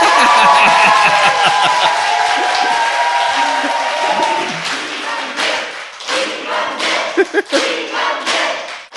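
Studio audience at a Korean talk show breaks into loud applause and cheering, dense clapping that gradually thins into scattered claps, with voices mixed in.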